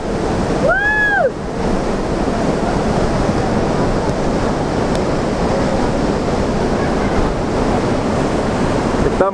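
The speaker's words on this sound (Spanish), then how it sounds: "muy fuerte la brisa" Strong breeze and roaring spray at the Pailón del Diablo waterfall in Ecuador, a loud, steady wash of rushing water and wind buffeting the microphone, with a brief whistle or shout near the start.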